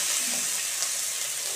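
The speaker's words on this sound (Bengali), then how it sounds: "ফ্রাই করে দেবো।" Chopped onion and green chilli frying in oil in a pan, a steady hissing sizzle, close and continuous, with no voices.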